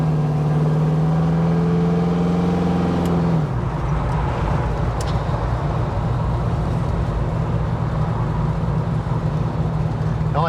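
A 1974 Chevy Camaro with a rich-running carburetor revs for about three seconds, then the engine drops to a steady, rumbling idle that continues for the rest of the clip. No one speaks.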